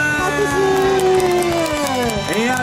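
A crowd of Santa-costumed runners at a Christmas fun run in Tokyo claps and cheers, a loud close mix of applause, shouts and whoops with a voice talking over it.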